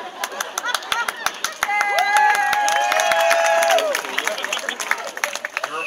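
An audience at a Renaissance Faire comedy show breaks into applause and cheering, building to a steady burst of clapping that swells and then tapers off into scattered claps, with voices shouting over it.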